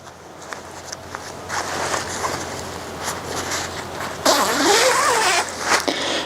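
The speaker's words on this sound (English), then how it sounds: "it's got one zipper that can pop loose right there and open this all the way up" A zipper on a lightweight wearable adult sleeping bag is pulled open in a few short scraping runs, with fabric rustling and handling noise close by.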